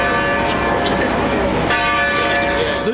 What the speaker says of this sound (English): Rutgers celebrated the anniversary today by ringing the bells at Old Queen's